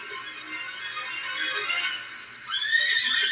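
Horses whinny in long, high neighs that overlap, one call rising sharply near the end, fairly close and loud with no talking.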